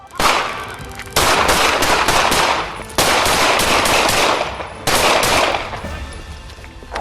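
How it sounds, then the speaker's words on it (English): Gunfire in an exchange between a suspect with a handgun and police officers, loud sharp shots in rapid clusters with echoing tails, several bursts over a few seconds and no talking. "Carey suddenly drew a handgun and fired 4 times. Officers returned fire."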